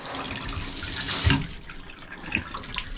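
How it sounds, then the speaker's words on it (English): Water runs steadily from a bathtub shower in a rental home, a moderate hiss with a brief clunk partway through, with no talking. "pull up on that to turn on the shower"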